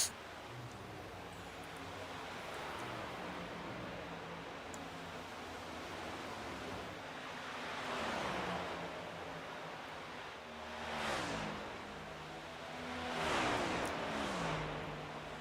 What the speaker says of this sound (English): Flyby! One of the best sounds in NASCAR.